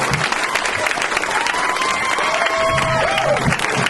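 A comedy club audience applauds the host Dashiell Renaud, with steady, dense clapping and a few scattered cheers and shouts. The sound stays sustained and fairly loud for the whole stretch, and no one speaks over it.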